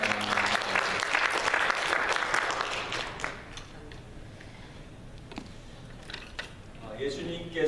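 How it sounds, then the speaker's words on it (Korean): A church congregation applauds during a Sunday worship service, loud sustained clapping for about three seconds that then fades to scattered claps and quiet room sounds with faint voices. "하나님께 영광의 박수 올려주세요"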